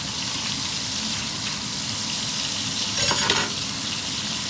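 A steak sizzles and fries steadily in a hot pan with a constant loud hiss. A brief burst of sharper crackle and spatter comes near the end, and no one talks.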